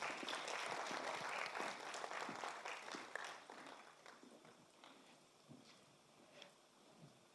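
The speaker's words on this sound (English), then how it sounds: "Let's give them another round of applause," A crowd claps loudly at first, then the applause thins and fades to scattered claps.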